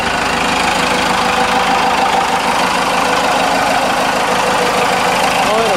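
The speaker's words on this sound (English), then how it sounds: "I'll let this guy warm up a tiny bit. Just give him a couple minutes to wake up. Sounds like factory at idle." A 4BT Cummins diesel engine idles with a turbo fitted after replacement, a loud, close, steady clattering rumble with a knocking texture that continues unbroken.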